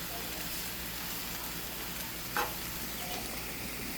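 Pork chops with mushrooms and onions sizzle on an outdoor barbecue grill on a hot, humid summer day in Ontario, a steady close hiss of frying with one brief sharper crackle midway.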